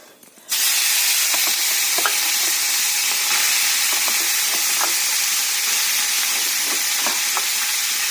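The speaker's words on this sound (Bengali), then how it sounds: "এই মাছ জিরেটা ভাজা হয়ে গেছে মাছটার মধ্যে দিয়ে দেবো" Cumin seeds frying in a pan for fish curry, a loud hissing sizzle that bursts in suddenly and holds steady, with occasional light clinks of a utensil against the pan.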